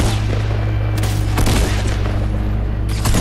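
Loud shotgun blasts in a Fortnite match, several sharp booms spaced irregularly over a steady droning game background, with no talk.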